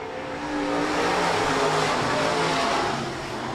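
USRA B-Modified race cars roar around a dirt oval at Rapid Speedway under green flag racing, a loud, dense wall of engine noise that swells and stays steady throughout.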